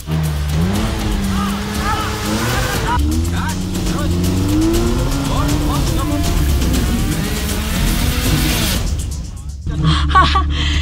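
An off-road vehicle climbs a steep forest trail over large tree roots in the Bawean wilds, its engine revving hard with rising and falling pitch and tire scrabble, loud and close, while people talk over it.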